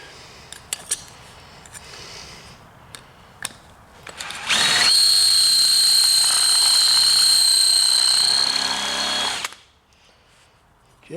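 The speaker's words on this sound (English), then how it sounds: "Yeah, it's hard shit to drill." A power drill bores into a steel chainsaw bar, its motor rising into a loud, steady high-pitched whine that holds for about five seconds before cutting off, after a few scattered clicks and handling knocks.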